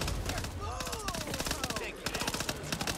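Rapid bursts of automatic gunfire from the game Back 4 Blood rattle continuously, dense and sharp, with a voice speaking partway through.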